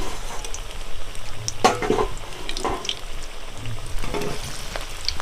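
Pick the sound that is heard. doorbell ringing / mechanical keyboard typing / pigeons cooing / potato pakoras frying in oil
potato pakoras frying in oil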